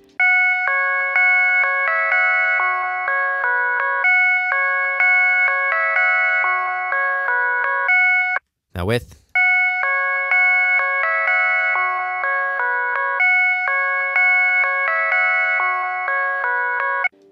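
A synth lead bell patch plays a bright, sustained repeating melodic figure before and after a brief break, first unfiltered and then with an EQ filter cut applied; the tones ring loud and steady, with only a couple of words spoken in the gap.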